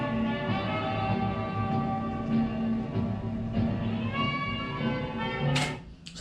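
Old-fashioned 1930s-style ambient music from the Tower of Terror queue at Disney's Hollywood Studios hums with sustained, soft tones. It plays steadily at low volume, and a brief sharp click comes near the end.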